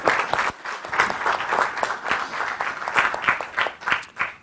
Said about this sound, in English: So maybe a round of applause for Kate.